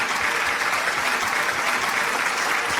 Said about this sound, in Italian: Facciamo un forte applauso.